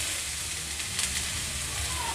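Grated carrot for carrot halwa sizzles and fries in a hot pan, a dense steady hiss close up with faint stirring clinks and no talk.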